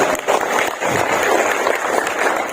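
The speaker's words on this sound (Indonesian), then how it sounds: "Tepuk tangan buat teman sekalian" Audience applause fills a sales-seminar hall at a Pontianak marketing event, a dense continuous wash of many hands clapping with some crowd noise, steady and fairly loud throughout.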